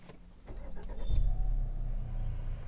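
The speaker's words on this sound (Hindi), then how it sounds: "सबसे पहले इस गाड़ी को स्टार्ट कर लेते हैं।" A 2026 Tata Harrier petrol SUV is started by push button: a quiet cabin, then about a second in the engine catches with a low rumble and settles into a steady, close idle. No one speaks.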